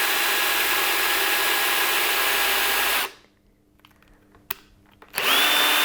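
A power drill bores into a wooden ballet barre, whining loudly and steadily for a few seconds, then cuts off into near silence with a brief click before spinning up again.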